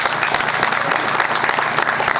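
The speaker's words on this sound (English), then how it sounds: "We can give him a round of applause" A crowd at a walkathon gives the sheriff a round of applause, loud and continuous, with many hands clapping in a thick, even roar throughout.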